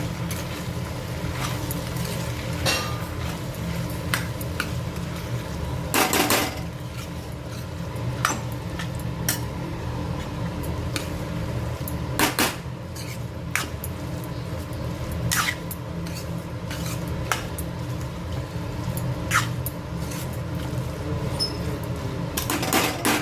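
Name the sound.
stirring powdered sugar into sago potato khichdi in a pot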